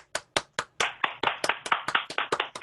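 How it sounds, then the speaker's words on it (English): A small group claps for award recipients at a scouting district roundtable, starting with a few separate sharp claps that quickly build into quick, steady applause, close and clear with no talking. "Let's give a big round of applause for everybody in the group here"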